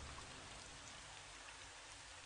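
Steady rain heard near a hotel's 12th-floor emergency exit stairwell, a dense continuous hiss of falling drops with no voices, holding evenly at a soft, constant level throughout.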